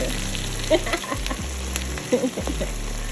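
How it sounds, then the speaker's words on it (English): Onions frying together in a pan for homemade chili, a steady close sizzle with a couple of brief stirring clatters over a low hum. "we have all the onions cooking together"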